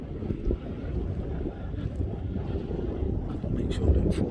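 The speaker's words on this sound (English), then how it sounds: "It's really windy on this end." Strong wind on a mountain top roars and buffets the microphone in a constant low rumble, with gusts rising and falling throughout.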